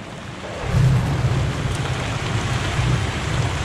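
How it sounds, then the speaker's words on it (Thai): Heavy rain pours down outside during a flooding downpour, a loud, dense, continuous roar of falling water. "ข้างนอกฝนตกแรงมากอ่ะ"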